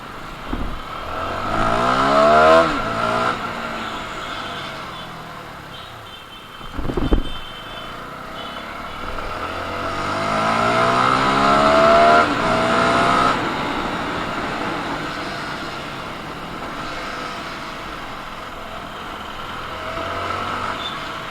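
A CFMoto 300NK motorcycle engine revs up repeatedly, pitch climbing through gear shifts, loud and close, with a few brief lulls between pulls.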